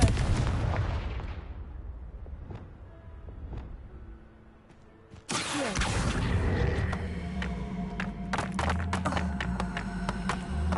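A Confringo spell explodes in Hogwarts Legacy, a sudden loud fiery blast midway after fading rumbles and crackles, followed by sustained roaring debris and crackling effects.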